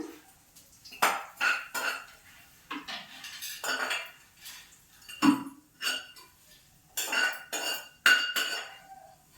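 Fried dried red chillies are scooped onto a plate, metal utensils clinking against dishes and pans in a series of sharp, close bursts with short pauses between.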